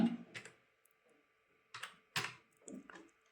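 A computer keyboard used to type a captcha code, with a handful of sharp, close key clicks in small irregular bursts separated by brief silent gaps.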